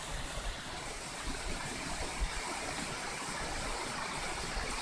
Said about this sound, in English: he's playing in the waterfall